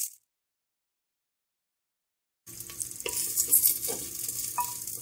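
Chopped onion dropped into hot ghee in a clay handi: after a stretch of silence, a bright, close sizzle starts suddenly and carries on steadily, with scraping stirring clicks on top.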